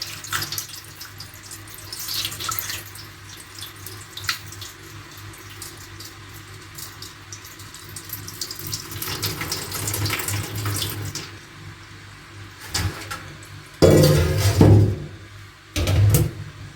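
Cold tap water runs steadily for soaking and rinsing wheat grains for samanu, a broad continuous rush that swells into louder splashing bursts near the end.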